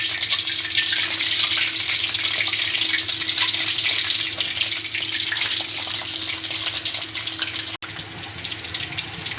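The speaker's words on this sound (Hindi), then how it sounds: "इसमें अब हम जो है गरम हो चुका है, रोल डालेंगे इस तरह से" Potato spring rolls frying in hot oil give a steady, dense sizzle that holds close and loud, with a brief dropout near the end.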